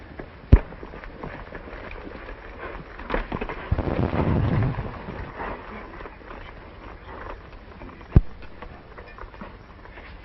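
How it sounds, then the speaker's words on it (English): Two sharp gunshots crack out in a Western film scene, one near the start and another near the end, with a rough, rumbling stretch of noise between them. "Now, when you take your finger off, the gun should go bang."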